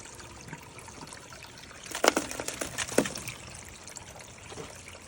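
Water from bank-run material flowing through a portable Dream Mat power sluice into a collection tub, a faint steady trickle with a few louder splashing gushes in the middle.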